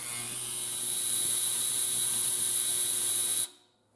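Ultrasonic cleaner running with a carburetor from a Yamaha YL1 motorcycle immersed, a loud, steady high-pitched hiss with an underlying electrical hum that cuts off abruptly near the end.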